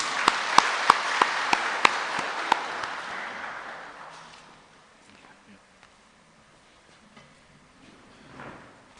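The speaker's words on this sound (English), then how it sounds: "Please give him a round of applause." Audience applause at a college foundation day alumni lecture, broad crowd clapping with a few sharp louder claps near the front, fading out after about four seconds into near silence.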